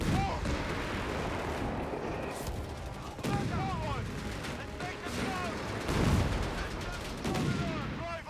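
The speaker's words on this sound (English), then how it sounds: "Grenade!" Battle din from Company of Heroes 3, an Afrika Korps match, with continuous gunfire and artillery-like blasts including a grenade explosion, dense and sustained over the whole stretch, with voices shouting over it.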